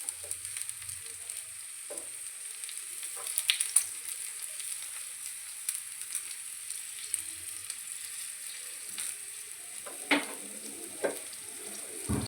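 Crushed garlic fries in hot oil as a tempering for kokum rasam, a soft steady sizzle with scattered sharp crackles and clinks, faint and without talk.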